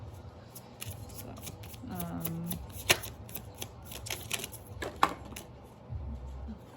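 Tarot cards shuffled by hand in a quiet room, a run of soft riffling flutters and papery snaps with a few sharper clicks, close and moderately quiet.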